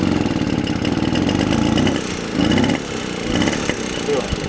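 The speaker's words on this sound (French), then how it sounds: "D'habitude un coup de pédale suffit." Small 50cc two-stroke engine of a Motobécane AV88 moped, already warm, running at a steady mid-pitched idle for several seconds, with brief rises in revs, close and fairly loud.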